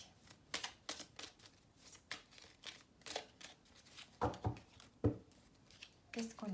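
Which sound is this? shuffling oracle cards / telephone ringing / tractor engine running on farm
shuffling oracle cards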